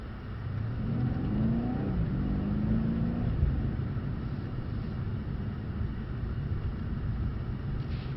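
Mercedes-AMG C63s held at a steady 35 before braking, its engine and road noise a constant mid-level hum heard from inside the cabin, with no voices.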